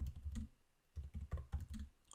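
Quick, close clatter of keys on a computer keyboard comes in two short bursts of uneven taps separated by a brief pause.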